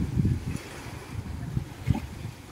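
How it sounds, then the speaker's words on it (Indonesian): Fairly strong coastal wind at Bahtera Jaya Ancol pier in North Jakarta in the afternoon, buffeting the microphone in low rumbling gusts that come and go in uneven bursts, fairly quiet overall. "lumayan kencang anginnya di sini"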